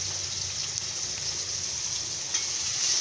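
Onions and green chillies fry with turmeric powder for a capsicum masala curry, giving a constant soft, hissing sizzle close by with one or two faint clinks and no talking.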